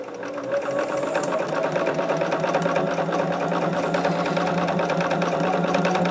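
A sewing machine runs steadily and loudly, stitching quilt-block fabric that has been twisting into a corkscrew, its close, even motor drone and rapid needle rhythm unbroken for the whole stretch.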